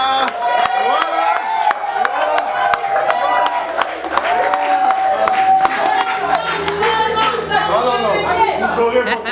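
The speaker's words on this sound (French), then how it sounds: "Veuillez applaudir pour eux" An audience claps and cheers for a couple at their 25th wedding anniversary celebration, a dense wash of applause and crowd chatter under music and a host's talk.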